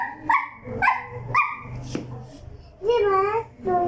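A young child imitates a dog, giving several short bark-like yelps in a row, close and loud, followed by a longer drawn-out howl-like cry.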